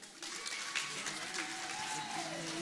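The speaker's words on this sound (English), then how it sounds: "Please a round of applause for" Sustained audience applause at the Nigerian Sports Awards 2016, dense clapping from a large crowd filling the hall, heard throughout at moderate level.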